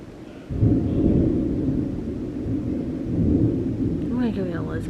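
A deep, sustained roll of thunder from lightning during Tropical Storm Imelda rumbles loudly and continuously, swelling after a brief quieter start, with faint rain noise and a hint of a voice near the end.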